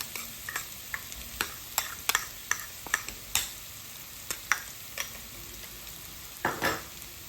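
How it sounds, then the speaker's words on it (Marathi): Green masala sautéing in oil in a pan, a soft constant sizzle punctuated by irregular clicks and scrapes of a spoon stirring against metal, with no one talking. "हा मसालाही तेलावरती परतलेला पाहिजे, म्हणून आपण अजून अर्धा मिनिट त्याला छानपैकी परतून घेऊया."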